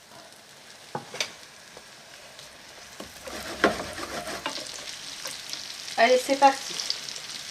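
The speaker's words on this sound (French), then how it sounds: "on va mettre en premier les poireaux et les oignons" Leeks and onions frying in melted butter and oil in a pan, a steady crackling sizzle with scattered stirring knocks and a louder burst of spatter near the end; a voice speaks briefly.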